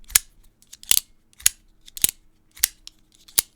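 A Demko AD 20.5 folding knife on bearings snaps open and shut, making about six crisp, sharp clicks in an even rhythm, close and distinct against near silence.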